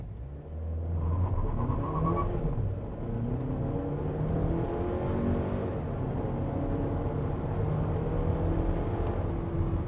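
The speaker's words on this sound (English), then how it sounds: "we've put it up against our stopwatch" A 2022 Haval H6 SUV accelerates hard from 0 to 100 km/h, its engine droning and climbing in pitch through several gear changes with steady road rumble underneath, heard from inside the cabin.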